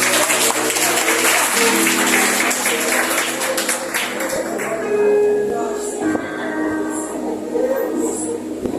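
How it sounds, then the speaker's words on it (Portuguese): A church congregation applauding during a worship service, dense clapping for several seconds that thins out, mixed with shouting voices and some tonal sound. "Aplauda ao Rei"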